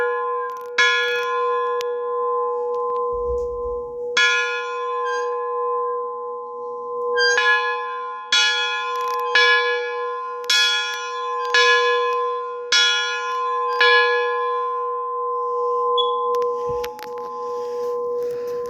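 A loud steam locomotive bell rings repeatedly in an uneven rhythm, each clang leaving a long ringing tone that sustains throughout, with a brief low thump partway through.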